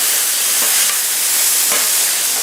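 Vegetables added to a Blackstone griddle alongside steak for pepper steak sizzle loudly in a steady, broad hiss, close and continuous with no talking.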